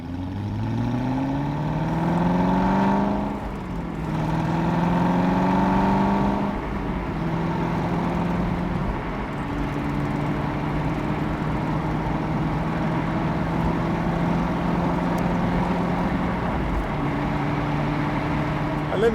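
A 2009 Aston Martin Vantage 4.7 V8 accelerates hard, its engine note rising steadily through the gears with brief dips at each shift, loud and close from inside the car.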